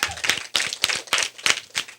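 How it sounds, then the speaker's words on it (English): A small group claps in loose bursts, about seven distinct surges of hand claps over two seconds, close and fairly loud. "give them a big round of applause"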